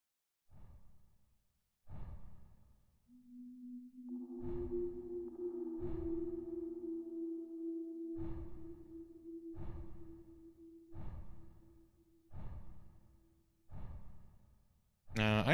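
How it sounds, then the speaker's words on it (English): Breathing in the video game Hellnight comes as a slow, regular series of soft breaths, about one every second and a half, over a low sustained drone, faint overall, ending in a sharp loud burst. "I am gonna turn the game up so you guys can hear the breathing a little bit better"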